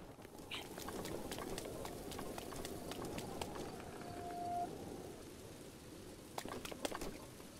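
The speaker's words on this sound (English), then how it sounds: "It is still raining." Steady rainfall in the video game The Legend of Zelda: Breath of the Wild hisses throughout at moderate level, with scattered sharp drip-like ticks and brief clicks over the wash of rain.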